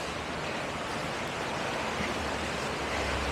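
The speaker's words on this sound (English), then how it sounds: "There's a little stream over there." A small stream flowing through Skye woodland, a steady, even rush of water noise that stays constant and fairly close, with no voices over it.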